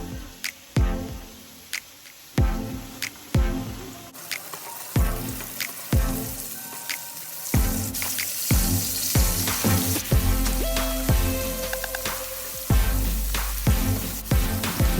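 Catfish frying in hot oil for Cajun catfish, loud crackling sizzle with bursts of popping as pieces go in and settle, close up and without talk.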